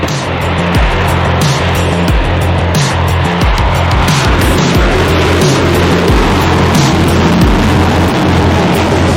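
A jet-engine drag racing car accelerates down a 402-meter strip with a loud, continuous roaring rush and rough, pulsing bursts throughout, close and overpowering.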